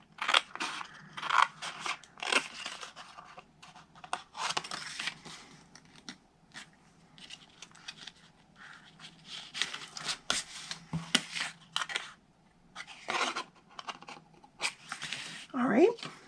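Scissors snip cardstock along score lines in short crisp bursts, close and fairly quiet, alternating with talking.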